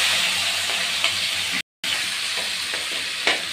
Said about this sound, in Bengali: এখন এক এক করে আগে পেঁয়াজটা ভেজে নেব।